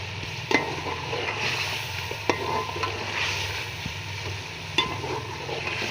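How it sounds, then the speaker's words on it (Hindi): Chicken sizzles loudly in a pan as it is stir-fried with green beans, with steady frying hiss broken by a few sharp spatula clacks against the pan and no talk. "अब इसमें हमने ये चिकन ऐड करना है और इसे भी हमने अच्छे से भून लेना है"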